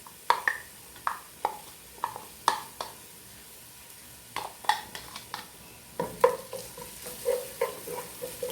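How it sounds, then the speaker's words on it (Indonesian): Ground ginger, chili and garlic paste frying with onions in a pan, a low background sizzle punctuated by rhythmic metallic scrapes and knocks of a spatula stirring, close and clear. "Sekarang saya akan masukkan bumbu yang tadi saya haluskan."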